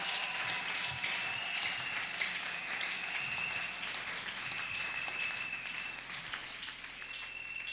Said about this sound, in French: Je voudrais que tous nous l'acclamions encore très fort